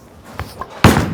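A Hammer Pure Envy bowling ball rolls down the lane and crashes into the pins, a few soft knocks building to one loud clattering impact that rings out briefly.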